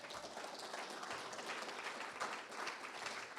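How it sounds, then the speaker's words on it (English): Dense applause from a meeting audience honoring a speaker, moderate in level and unbroken throughout. "Let's give Mike an applause"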